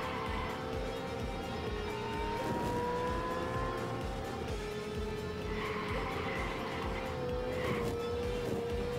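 Racing car engine in the video game Horizon Chase 2, a steady droning whine that rises and shifts pitch through gear changes, with tire squeals mixed in, loud and continuous throughout.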